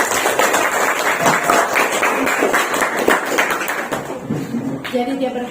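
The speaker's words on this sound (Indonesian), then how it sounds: "Tepuk tangan dulu." A group claps hands in a dense, steady burst of applause that fades near the end, with a voice speaking faintly beneath.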